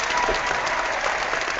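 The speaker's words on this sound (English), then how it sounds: "The stupid applause sound doesn't last long enough" A short burst of applause from a crowd, dense and steady clapping throughout, moderately loud and slightly muffled, with no voices.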